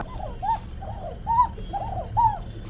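A pigeon coos in repeated soft, rolling calls, about one per second, close by against a quiet low background hum.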